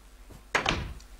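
A wooden door in Minecraft slams shut with a single sharp thunk and a short rattling tail, fairly quiet and alone.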